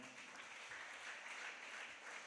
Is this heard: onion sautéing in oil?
no